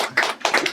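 A short burst of hand clapping from a class at the close of an online exam-prep lesson: two quick, close claps in under a second, with no voices.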